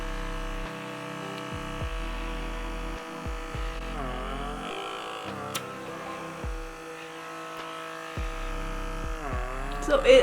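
A Vivitar pore vacuum runs against skin on the forehead, its motor humming steadily and cutting in and out several times as the suction grips and releases, with a voice talking over it.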